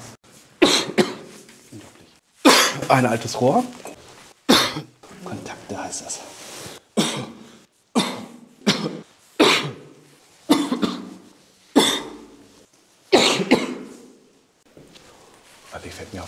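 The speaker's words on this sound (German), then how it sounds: "Und ich werde heute einige Male in diesem Video husten" A man coughs repeatedly in short, sharp bursts with some throat clearing, scattered between stretches of his own speech inside an old bunker.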